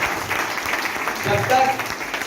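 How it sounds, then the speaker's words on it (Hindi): A gathered crowd gives a round of applause for two people at a testimonial event, a moderate wash of clapping that swells slightly midway and carries on without a break. "एक बार इन दोनों के लिए जोरदार तालियां।"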